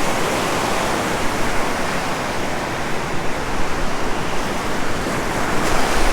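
Steady, loud surf washing continuously on a protected beach at White Plains Beach, Oahu, Hawaii, a broad rushing roar with no voices.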